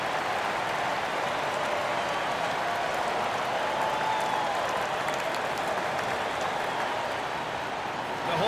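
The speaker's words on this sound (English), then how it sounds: "The home fans cheering for MP" A home crowd cheers with steady, dense roaring applause at an NBA game in the video game NBA 2K25, sustained and loud throughout without a break.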